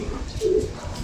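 A single short, low pigeon coo rises briefly over a soft background murmur, close by.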